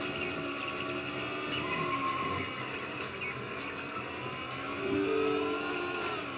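A Ferrari race car in a racing video game drones with a steady, sustained engine tone and some tire noise, swelling slightly near the end, moderately loud and without talk.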